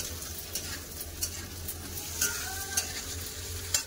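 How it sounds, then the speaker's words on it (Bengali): Potatoes and ridge gourd fry together in a pan, a soft, steady sizzle with a few crisp spatula taps and scrapes spaced through it, no voices present. "আলু একটু ঝিঙাও একটু ভালো করে আলুর সাথে ভেজে নেবো।"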